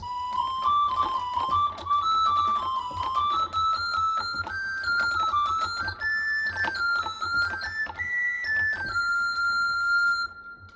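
A hurdy-gurdy's organ stop plays a reedy, buzzing melody steadily, wandering up and down in pitch over a low drone, with no strings sounding and no voices.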